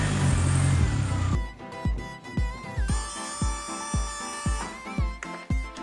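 A faulty VW Passat 1.9 TDI diesel engine running roughly, with a high whine at first, then a repeating series of heavy thumping pulses and a steady engine drone, close up and without talk.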